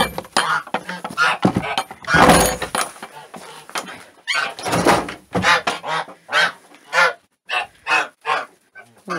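Geese honk loudly and repeatedly nearby, irregular bursts of harsh calls that become a quicker rhythmic string toward the end.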